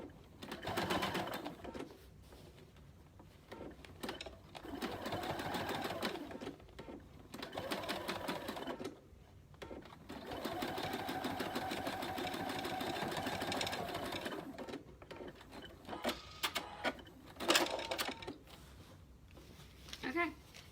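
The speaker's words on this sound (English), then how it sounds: "Okay, so I just stitched that up right there" A sewing machine stitching a pillow seam made from a placemat and sweatshirt runs in several bursts of varying length, close and moderately loud, with a voice talking between and over the runs.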